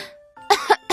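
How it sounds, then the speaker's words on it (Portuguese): A short performed cough in a Portuguese audiobook of The Little Prince: a faint voiced lead-in followed by three quick, close coughs. "A flor tossiu."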